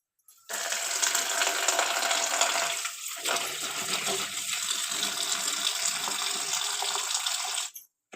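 Water runs steadily from a tap or is poured into a container to wash grapes outdoors, a continuous close splashing rush that lasts several seconds before stopping abruptly.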